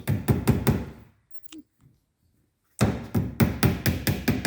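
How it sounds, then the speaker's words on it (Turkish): Hammering nails into the corners of a cabinet during assembly, bursts of rapid, loud, close hammer strikes with a quiet pause and a faint knock between the two runs of blows. "İlk önce bir tane çiviyi atıyoruz. Alttan da bir tane çivi atıyoruz."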